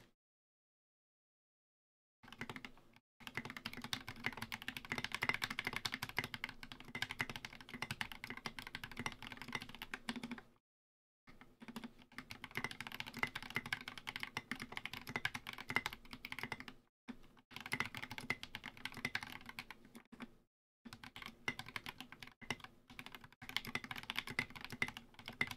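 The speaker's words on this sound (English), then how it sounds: "let's try again, Ducky 1-2 Mini with Milmaxed PCB, Glorious Link switches," Typing bursts on a Ducky One 2 Mini keyboard with a Mill-Max hotswap PCB, Glorious Lynx linear switches and SA keycaps, dense rapid clacking in several runs separated by short silences, close and fairly quiet.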